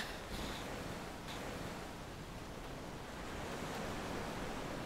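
Sea waves washing onto the shore make a steady, broad rushing roar that holds at an even level throughout, with no voices over it.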